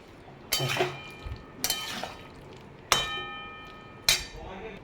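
Chopped jackfruit tips into a hot pan with a few sharp metallic clinks and a brief sizzle, four distinct bursts spaced about a second apart, close and fairly clear.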